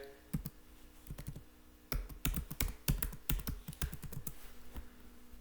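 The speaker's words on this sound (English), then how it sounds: "if I type in here" Someone types a search term on a computer keyboard in quick, irregular bursts of close clicking keystrokes, pausing briefly before a denser flurry.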